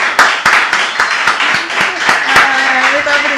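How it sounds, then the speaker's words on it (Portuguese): Applause in a podcast studio, a few sharp close handclaps in a quick uneven run, with people talking over them. "a salva de palmas que você merece"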